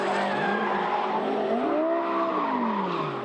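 Touring race cars, among them Renault Clios and Seat Leons, scream around the Paul Ricard circuit at Le Castellet in the Var during a French championship round. Several engines rise and fall in pitch together as they pass, close and loud, with no talk.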